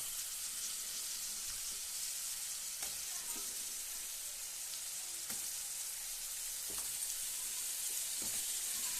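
Crab pieces sizzle in hot frying masala for a village-style crab curry, a steady broadband fry hiss filling the whole stretch with a few soft clinks and stirring scrapes, no talk.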